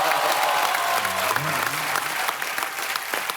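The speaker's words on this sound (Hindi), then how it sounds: "तालियों की गड़गड़ाहट।" A studio audience at a comedy show applauds loudly and continuously, with a voice briefly heard under the clapping.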